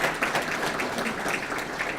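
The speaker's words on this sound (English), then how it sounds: "She really needs another round of applause" Workshop audience applauding the host, a steady dense wash of clapping from a crowd that holds evenly for a couple of seconds, moderately near with no break.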